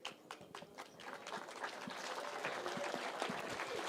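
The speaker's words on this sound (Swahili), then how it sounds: "Makofi jamani." Audience at a political gathering with Rigathi Gachagua bursts into applause, scattered claps quickly thickening into a steady, moderately distant round of clapping.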